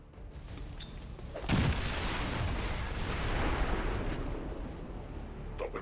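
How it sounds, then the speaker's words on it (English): A grenade blast in a video game hits hard at about one and a half seconds, then a long rumbling roar of fire and debris rolls on for several seconds, loud and near with no talk. "Grenade!"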